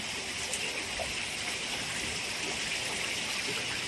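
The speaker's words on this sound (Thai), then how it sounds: "น้ำตกก็ตกไหล" Waterfall pouring into a garden pond, a steady, faint hiss of splashing water that runs evenly with no breaks and no voices.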